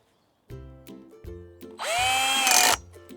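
Power drill bolting through an upright into a wooden rung at an allotment: a few short clicks and thumps, then a loud, close whine of the motor for about a second before it stops, with no talking.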